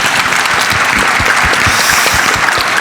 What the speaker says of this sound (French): Je pense qu'il mérite un tonnerre d'applaudissements.